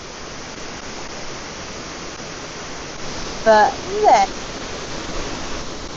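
Constant rushing water of a waterfall on the Isle of Mull, heard from its upper part near a bridge, a broad steady roar, with a brief spoken phrase cutting in over it midway.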